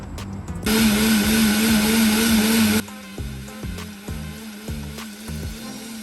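A soy milk maker blends soybeans with a loud, high-pitched motor whine for about two seconds, then cuts out, leaving softer rhythmic mechanical ticking and thumps.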